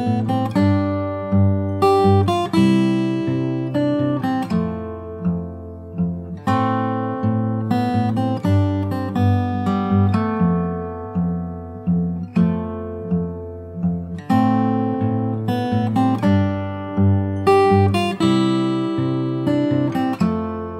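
A fingerstyle acoustic guitar plays the bridge of a song, with plucked chords and melody notes ringing in a steady flowing rhythm, close and clear with no voice.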